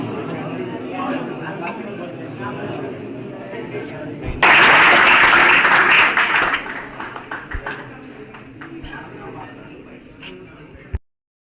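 A hall audience at a felicitation event murmurs and shuffles until a sudden burst of loud applause swells, holds for a couple of seconds, then tapers into scattered claps and chatter before an abrupt cutoff.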